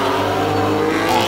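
A Nissan GT-R Skyline race car with a VR38 engine at a hillclimb event, its engine note a steady loud drone as it pulls hard, rising slightly near the end.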